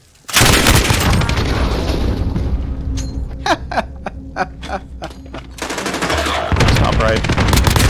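Automatic gunfire from Call of Duty: Modern Warfare played on an Xbox Elite Controller Series 2. Loud bursts open and close the stretch, with a row of sharp separate shots in the middle, and a player speaks briefly over it.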